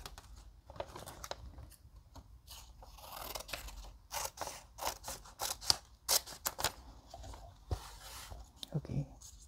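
Scissors snip green paper into thin strips for a paper craft, a rapid series of crisp cuts and crunches close up, with someone talking softly between and over them.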